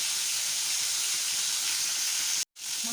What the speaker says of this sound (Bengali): মাছগুলো আস্তে আস্তে ভাজা হচ্ছে।